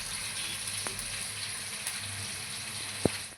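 Chopped onions fry in a pan for biryani, giving a steady, close hiss and sizzle throughout, with a couple of brief sharp clicks near the end and no speech.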